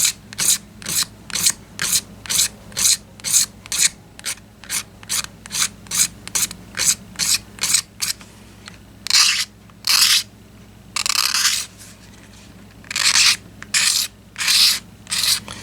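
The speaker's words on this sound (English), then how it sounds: "You can kind of put a bevel on it there while I'm scraping." Small hand micro scraper rasping along the edge of an acoustic guitar pickguard at a 45-degree bevel, in a quick run of about eighteen short, even strokes followed by a few longer, slower scrapes, close and clear with no talking.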